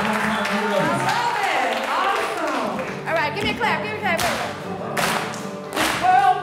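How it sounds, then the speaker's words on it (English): A choir claps along in rhythm at a camp gathering, sharp hand claps landing in a loose beat over singing voices and music. "give me a clap"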